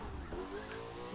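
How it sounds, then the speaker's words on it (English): A racing car spins out in The Crew 2 video game, its tires squealing and skidding under a droning engine, loud and continuous over a short moment with no talking. "Every time I reset my car, I spin out."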